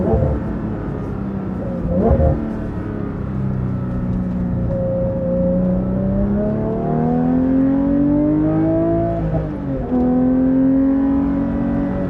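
A Porsche 992 GT3 Touring with a full Dundon titanium exhaust is driven, its engine note rising and falling through gear changes as it revs up steadily, loud and close from inside the car.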